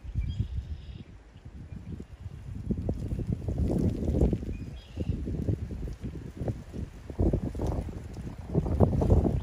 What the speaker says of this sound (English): The wind has picked up suddenly.